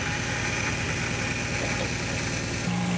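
A car engine idles steadily and close by just after its first start, a continuous low rumble with a mild vibration and no voices.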